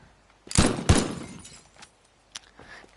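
A building gets smashed in the video game Teardown, with two heavy crashing impacts in quick succession followed by trailing rumbles and scattered smaller debris knocks.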